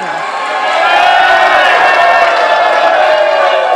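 A large crowd breaks into loud applause and cheering at a Jembrana regent election debate, swelling quickly and holding steady as a dense wash of clapping.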